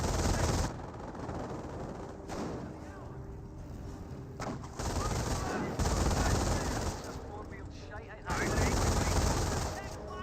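Infantry gunfire in a Company of Heroes battle, with loud bursts of rapid automatic fire and scattered shots coming in long rolling stretches, mixed under a voice talking.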